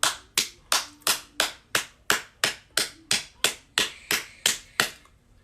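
A few hands clap in slow, evenly spaced single claps, about a dozen sharp close claps in a steady rhythm in praise of the youth, with no talking over them.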